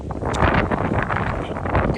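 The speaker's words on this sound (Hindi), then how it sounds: "कितनी तेज़ हवा चल रही है।" Strong winter wind blows outdoors in Karachi, a steady, loud broadband roar that buffets the microphone without letup for the whole stretch, with no talk over it.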